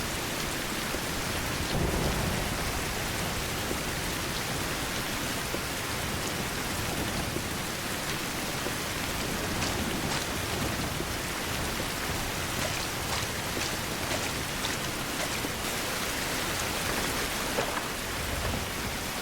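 Heavy rain pours steadily in a rainstorm in the survival video game Survival: Fountain of Youth, with low rolls of thunder running under the dense, constant hiss of the downpour and no voices.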